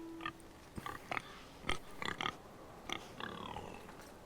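Pigs in a Game of Thrones video game grunting and oinking in short irregular bursts, several snorts and squeals at close range over faint background ambience, with no talking.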